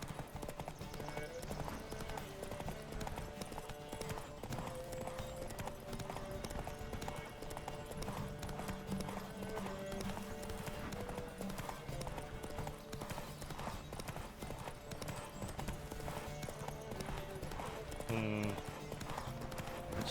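Rapid rhythmic hoofbeats of a galloping horse pound continuously amid busy game music and effects, with voices occasionally heard, in The Witcher 3: The Wild Hunt.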